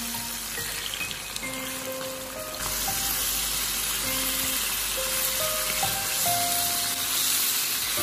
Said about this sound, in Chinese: 我们在煎鸡肉的时候一定要用夹子不停地将鸡肉转动一下